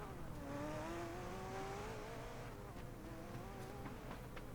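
A motorcycle rides through the video game PUBG on the Erangel map, its engine whining steadily with rising and falling pitch sweeps, close and continuous throughout without talk.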